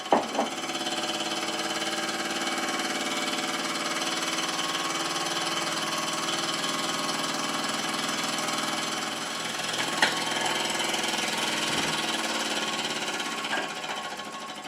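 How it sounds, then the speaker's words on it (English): A Mamod TE1 toy steam engine chugs continuously with a fast, even mechanical rattle and hiss, running steadily at moderate volume throughout with no speech. "I watched this engine run. With the steam coming from the chimney"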